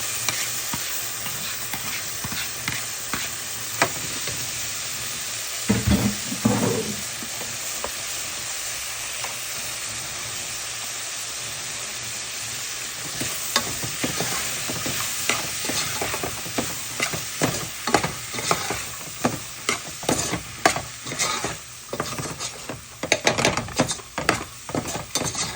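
Split peas frying in a pot for Guyanese kitcherie give a steady hiss, with stirring scrapes and clatters that grow busier and more rhythmic toward the end.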